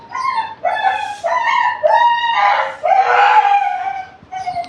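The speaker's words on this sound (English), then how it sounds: "So I wonder what's wrong with this dog." A dog howls and whines in distress, a series of drawn-out, wavering tonal cries in separate bursts with short gaps between them, loud and fairly close, with no one talking.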